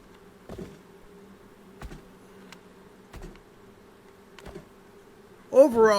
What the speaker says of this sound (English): you can hear the bees, so there's got to be honey near me